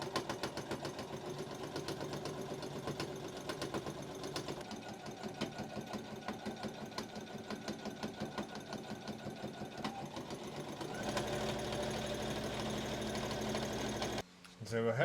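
A sewing machine runs steadily, understitching the lining of a large Japanese knot bag, its fast, even stitching rhythm loud and continuous, with a brief pause and change near the end.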